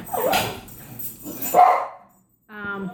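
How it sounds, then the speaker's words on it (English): A dog barks several times nearby in quick bursts, ending with a higher, whiny bark after a short pause. "Sorry for the barking, guys."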